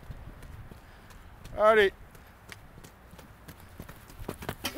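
A young horse at the end of its breaking-in, being schooled over a sequence of jumps, clip-clops in a steady rhythm of hoofbeats while a rider or coach calls out briefly.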